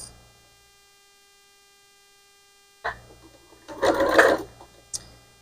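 A sewing machine fitted with a quarter-inch foot stitches place mats, giving one short, close, whirring run after a long stretch of steady electrical hum, with light clicks before and after.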